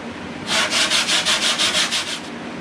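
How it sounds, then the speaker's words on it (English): Sanding body filler on a car panel: a close, loud run of about ten rhythmic back-and-forth rasping strokes, heard alone. "Once I sand this for the filler to stick, you're not gonna know what's what."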